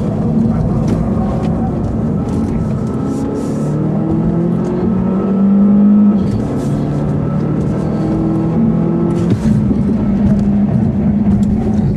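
A Volvo S60 T6 pulls hard through a 0-60 mph run as traction control cuts in, its engine note climbing through rising gear sweeps with brief dips at shifts, heard from inside the car.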